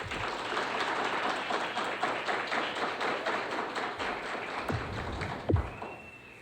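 An audience claps for an honoree at a Scout Day ceremony, dense and steady applause for about five seconds before it tapers off.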